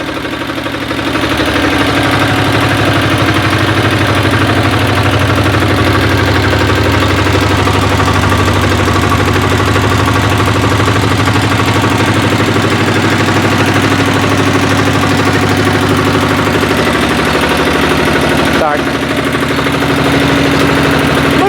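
A diesel walk-behind tractor runs nearby, its engine holding a loud, steady, low throbbing idle throughout, with a brief dip near the end.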